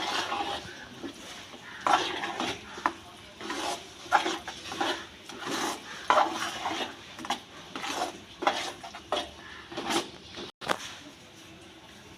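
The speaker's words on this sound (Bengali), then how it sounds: "এবার নারকেল কুড়োটাকে আমি এই তালের সাথে মিশিয়ে দেবো।" Grated coconut is worked into palm fruit pulp in a bowl, making repeated soft scraping, squelching strokes and occasional spoon knocks against the bowl in an uneven rhythm, close and fairly quiet, with no talking.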